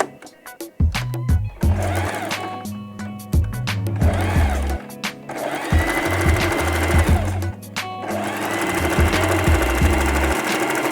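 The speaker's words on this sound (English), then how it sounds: "Make sure you start with back stitch. Back stitch is very important. It holds your fabric together." A sewing machine running back stitches through fabric, loud and close, in several bursts of rapid needle chatter separated by brief pauses and restarts, with no talking.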